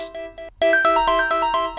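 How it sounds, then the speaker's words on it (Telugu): Mobile phone ringtone playing alone, a bright repeating melodic electronic tune with a short pause before the pattern restarts louder and more layered. "అర్జున్గా రింగ్ టోన్ మార్చాలి. Boring ring tone."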